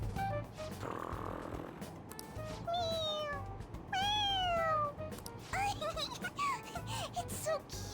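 A cat in Persona 5 Royal meows when pressed on the head, several rising and falling cartoonish mews repeated in quick succession, with game music and chatter in the background.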